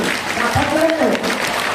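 Audience applause at a Sri Saraswathi Shishu Mandir children's program during a Balaji temple anniversary celebration: a steady wash of clapping with a voice calling out over it throughout.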